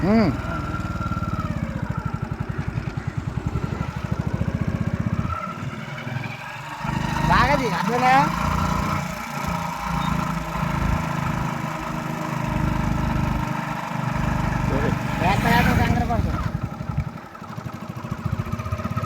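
A motorcycle engine runs steadily on a roadside with a low, continuous chugging drone, while voices and brief higher sounds come and go over it.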